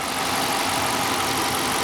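A damaged 5.7 HEMI V8 engine in a 2012 Dodge Charger police car idles steadily, its uneven, knocking rumble close and continuous.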